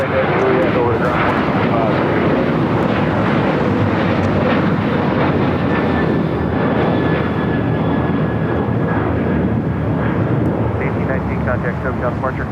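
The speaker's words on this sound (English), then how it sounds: "Spirit flight touching down here on the south side" A Spirit Airlines A320neo from Atlanta touches down on the south side at LAX, a loud, steady jet roar that fills the whole stretch, with faint voices underneath.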